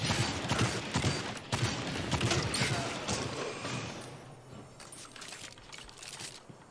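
Primary weapon and shotgun fire in a Destiny Crucible match: a dense, loud barrage of rapid gunshots with mechanical clatter, easing off slightly toward the end, with no voices.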